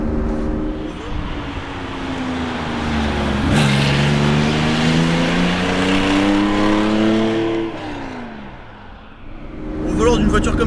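Porsche 911 Carrera 2.7 RS Touring from 1972 with a 2.7-litre engine, heard from the cabin while driving as a steady droning hum that rises in pitch through a gear, dips, then picks up again, with someone talking over it.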